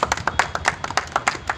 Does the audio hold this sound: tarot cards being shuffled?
no